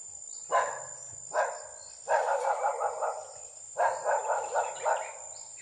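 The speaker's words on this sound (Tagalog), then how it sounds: "May mga aso." Dogs barking somewhere in a rural outdoor area, a run of several sharp barks in bursts, moderately distant, over a steady insect drone with no talking.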